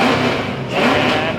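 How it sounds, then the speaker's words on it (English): A drift car's engine revs hard at the Gridlife Atlanta drift event, a loud, close, sustained roar that dips briefly and then climbs again. "These people have been doing this several times a day, every day, revving the hell out of that thing."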